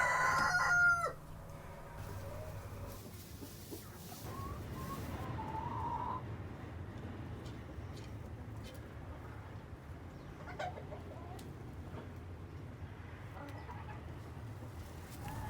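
A rooster crows loudly at the start, then hens cluck softly in the background amid low ambient noise.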